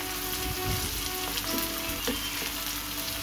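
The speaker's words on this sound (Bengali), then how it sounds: "মানে বেরেস্তা যেরকম ভাজে সেরকমভাবেই লো ফ্লেমে বেরেস্তা বানিয়ে নেব" Sliced onions sizzle steadily in oil over a low flame as they turn into beresta, crisp fried onions for a Golbari-style mutton kosha, a continuous close hiss with faint crackles throughout.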